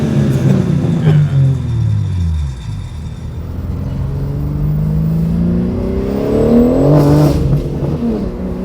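A BMW G80 M3 with an equal-length mid-pipe exhaust revs up and down several times through deep, rising and falling engine tones. It sounds loud and close, and the car is driving on a wet floor.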